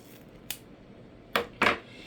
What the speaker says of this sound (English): I cut a dovetail end